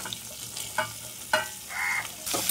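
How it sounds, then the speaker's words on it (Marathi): Pumpkin pieces drop into hot, crackling tempering oil in a pan for a no-onion, no-garlic pumpkin dish. A soft sizzle comes with intermittent clacks of stirring, and a brief hiss swells near the end. No one speaks. "फोडणी जराशी चांगली तडतडल्यानंतर आपण त्यामध्ये फोडी केल्या होत्या भोपळ्याच्या त्या घालून घ्यायच्या आहेत"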